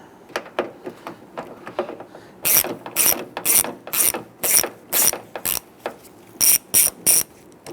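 A ratchet driver with a T20 Torx bit and extension removes a door screw on a 2011–2019 Ford Explorer rear door. It gives a steady series of loud, close ratcheting clicks in short rhythmic bursts, with no talking.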